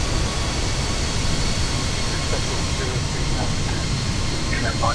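An Aegean airliner takes off from Athens with a steady, broad engine roar that holds at a constant loud level the whole time.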